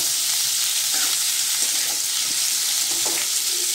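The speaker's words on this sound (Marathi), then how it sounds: "आता आपण कापलेला बटाटा टाकूया। मिक्स करून घेऊया हे।" Chopped potato stirred into fried onion in a hot pan, a loud, continuous sizzle with faint scrapes of the spoon now and then.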